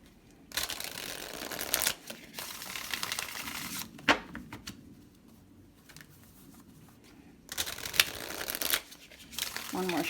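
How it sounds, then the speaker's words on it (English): Tarot cards are shuffled in quick riffling bursts, pausing between rounds, with soft talk nearby and a few sharp taps. "One more shuffle."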